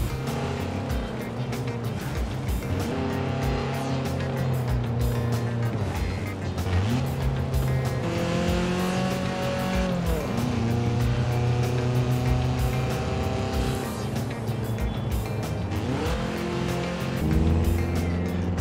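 Mercedes C63 AMG limited edition driven in Forza Horizon 4, a loud continuous engine drone rising and falling through gear changes, with no talk over it.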